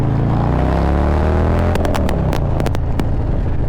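A 2021 Harley-Davidson Softail Low Rider S fitted with a Bassani exhaust pulls away under load, its deep V-twin rumble loud and close, rising in pitch through the gears with a few sharp crackles near the end, alone without talking.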